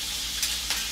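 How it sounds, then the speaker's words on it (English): Beef suet frying in a pan, giving a loud, steady sizzle with a couple of brief sharper crackles or stirring bursts near the end. "So this beef suet is cooking up and it's frying up"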